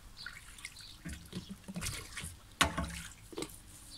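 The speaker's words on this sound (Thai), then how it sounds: "อันนี้ก็คือล้างแบบคร่าวๆก่อนนะคะ" Freshly picked garden vegetables rinsed under running water outdoors, with irregular splashes, drips and trickles close by and one sharper splash partway through.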